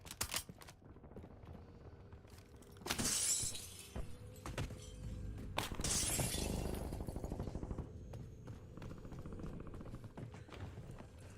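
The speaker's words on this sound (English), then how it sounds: "I broke their armor." Enemy armor shattering in the Warzone video game, sharp glassy breaking crashes around three and six seconds amid gunfire and rattling game sounds, fairly loud in a busy mix.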